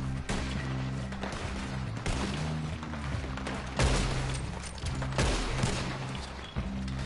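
A Gatling gun fires in the video game Red Dead Online, with dense bursts of rapid shots that run for several seconds. Brief breaks separate the bursts, and booming impacts punctuate them.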